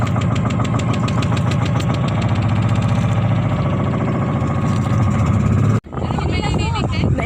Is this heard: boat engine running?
yes